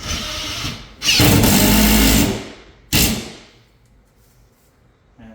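A power tool drives lag bolts into a wall to hold a TV mount for an LG OLED evo 65C3. Two loud, close bursts of whirring and grinding are separated by a short pause. The second burst winds down into quiet.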